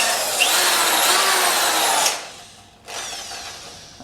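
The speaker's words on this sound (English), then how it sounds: "This drill is a bit underpowered for this, but if I set the speed to mental," An underpowered power drill, set to its top speed, bores holes in wood in a workshop, giving a loud, close, steady whine. It cuts out briefly, then spins back up again.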